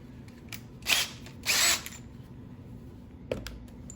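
Power drill counterboring a stripped drain plug hole on a Yamaha YZ250FX engine case, two short whirring bursts of drilling close up, with small clicks and a sharp knock between them.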